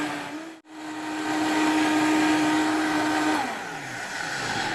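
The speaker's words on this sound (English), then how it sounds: "I'm going to put my lid on, and I'm going to give it a quick blend" Tomato and pumpkin soup whirring in a kitchen blender, a steady loud motor hum that starts abruptly after a brief gap, holds for a few seconds, then shifts pitch as the blend eases off.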